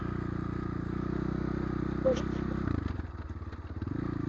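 Motorcycle ridden slowly, its engine droning steadily and close before the pitch and rhythm change as the rider shifts into second gear, continuing at a gentle pace.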